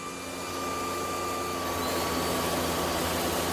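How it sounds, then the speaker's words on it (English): A SunSare X11 cordless vacuum cleaner, a 550W, 45kPa model, runs steadily with a constant whining motor hum and airflow hiss from start to finish, close and loud, with no one talking over it. "Hey guys, got this new vacuum."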